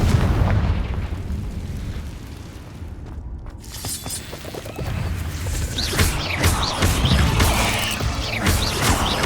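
Blasting-spell explosions from the Hogwarts Legacy video game: a heavy booming burst, a brief lull, then a dense run of loud crashing blasts and crackling impacts.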